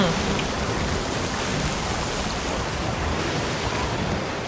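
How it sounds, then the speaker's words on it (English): Ocean waves in the video game Sea of Thieves make a steady, loud wash of surf mixed with wind-like hiss. The sound runs continuously without clear breaks. "That means waves is powerful."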